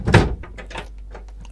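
A large drawer beneath a bunk in the cabin of a 2004 Fairline Squadron 55 yacht slides open with a quick thump followed by a short rolling, rumbling glide, close and fairly loud.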